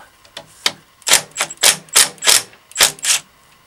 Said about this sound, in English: we just crack off the 3 13mm nuts holding the sprocket onto the fuel pump